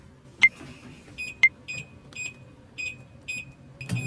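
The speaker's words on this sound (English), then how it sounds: "I can hear you beeping. Sorry, I just had to use the microwave." A microwave beeping in a quiet home, a series of clear, sharp electronic tones in an irregular sequence, fairly close and alone.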